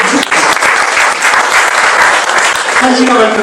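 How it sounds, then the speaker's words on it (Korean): An indoor audience at a mind-mapping productivity talk claps steadily and loudly for several seconds after the presentation, a dense continuous wash of hand claps with a voice faintly audible underneath. "박수를"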